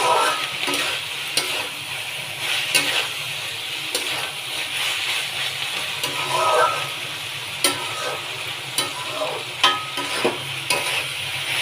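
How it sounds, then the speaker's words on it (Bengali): Potato and onion kalo bhaji frying in a pan, a steady loud sizzle throughout, with repeated scraping clicks of a spatula stirring it at irregular intervals, close up and without voices. "ভাজিটা হচ্ছে।"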